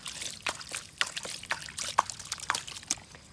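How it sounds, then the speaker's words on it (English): Water poured onto a toy truck trickles and splashes in a run of light, irregular drips and spatters, close up and fairly quiet. "Now I put some water."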